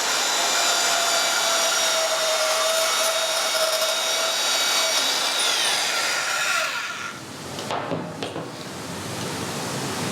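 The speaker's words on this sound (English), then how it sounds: "you just allow the weight of the unit to cut through that metal" A power saw spins at full speed with its blade set at 90 degrees, letting its own weight carry it down through metal. It gives a loud, steady, harsh whine, then winds down into clattering and a fading rumble.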